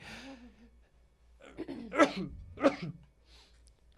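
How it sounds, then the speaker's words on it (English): Two sharp, explosive bursts about half a second apart, close and loud, after a brief intake of breath, like a person sneezing twice. "And I got to sneeze"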